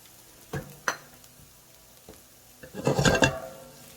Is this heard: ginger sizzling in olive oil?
yes